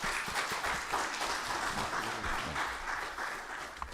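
A church congregation at a Sunday service applauds to welcome the pastor, a steady dense patter of many hands clapping together that carries on throughout at moderate loudness.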